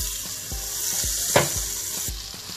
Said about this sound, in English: so that we can get the onions and the green peppers cooked up while the mushrooms are still sauteing